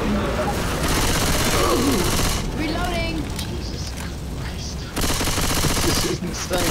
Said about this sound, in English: God, I love the shotgun.